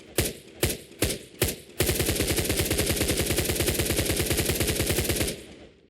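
Four single gunshots from a weapon in an Unreal Engine 5 game prototype, followed by a long rapid automatic burst of evenly spaced shots lasting several seconds, loud and isolated.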